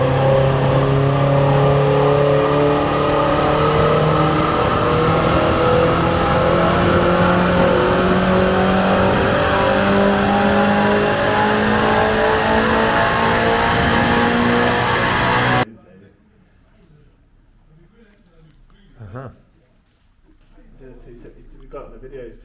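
Seat Leon Cupra R with a stage 2 remap revving hard on a dyno, rising through a long loud sustained pull that then cuts off abruptly, followed by quiet voices talking.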